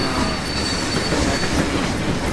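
A train rolls past in the Western shooter game Fistful of Frags, a loud, dense rumble with clattering wheels and faint squeal throughout, no voices.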